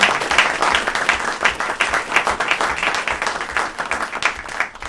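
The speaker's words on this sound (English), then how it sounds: "give our panelists a round of applause for a terrific presentation" An audience at a seminar applauds the panelists after a presentation: steady, dense clapping from many hands, moderately loud, with no talk over it.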